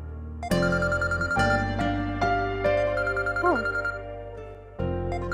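Mobile phone ringing indoors with a loud melodic ringtone, repeated tonal phrases that stop briefly and restart, filling the room with no one speaking.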